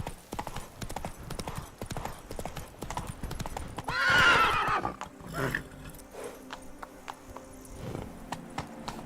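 Roach, the horse in The Witcher 3: Wild Hunt, gallops with rapid rhythmic hoofbeats. A loud whinny rises midway, and the hooves keep drumming on afterward.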